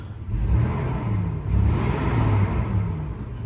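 A 2001 Toyota 4Runner's 3.4 liter V6 turns over and settles into a steady, low rumbling idle with slight swells in revs, heard close with no talking.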